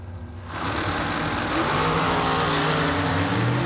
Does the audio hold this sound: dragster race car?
yes